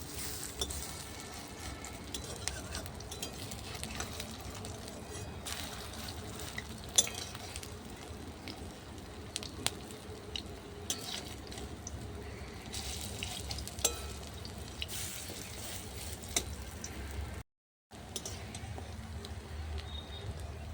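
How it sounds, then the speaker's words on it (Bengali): Khesari dal fritters (bora) frying in a pan, a steady, fairly loud broadband sizzle with occasional spoon or utensil clicks that continues throughout, briefly cutting out near the end. "এবার আমি বড়াগুলো লাল করে ভেজে নেব"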